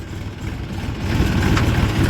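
A tractor hauling a trolley loaded with sugarcane toward a sugar mill runs with a low, steady diesel rumble nearby, the engine note thickening slightly partway through as it labours in gear.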